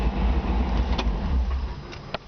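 A 1954 Ford Customline engine idles with a low, steady rumble up close, then is switched off, the hum dropping away near the end with a couple of sharp clicks.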